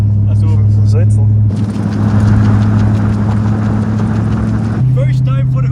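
Chevrolet Corvette C6 Z06 driving on a city street in cold weather, its engine a loud, rough, steady drone while under way, with an idle hum before and after; people talk over it.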